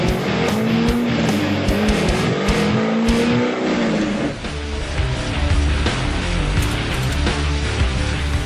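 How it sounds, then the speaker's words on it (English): A Corvette Z06 with a full exhaust system, cold air intake and street tune revs hard on a dyno, a loud sustained engine roar that climbs in pitch, eases briefly, then builds again. "A baseline dyno runs in our Z06, which is equipped with a full exhaust system, a cold air intake and a street tune"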